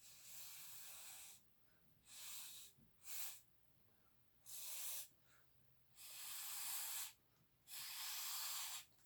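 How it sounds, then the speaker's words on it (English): Breath blown through a straw pushes poured acrylic paint across a Dutch pour canvas, making six soft, breathy hissing puffs of varying length, close and faint, with quiet pauses between them. "I didn't feel like blowing tonight, but I guess I'm going to have to after all."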